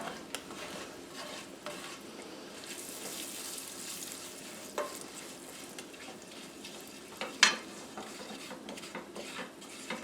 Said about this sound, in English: We're going to cook that flour for a minute or two.